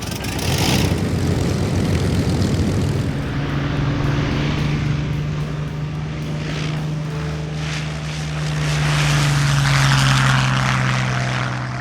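A WWII fighter plane with a V12 Merlin engine flies past at an airshow, its propeller engine droning loudly and steadily throughout, the pitch shifting slightly as it passes.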